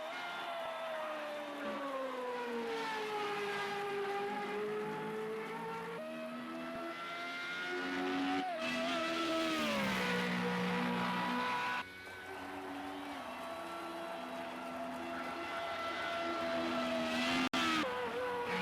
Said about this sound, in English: Mark crosses the line in P2.